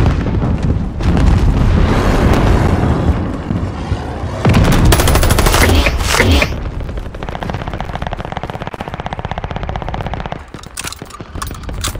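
Explosions from an airstrike and heavy gunfire in the Call of Duty video game, with loud rapid bursts and booms layered densely for several seconds before easing into scattered shots.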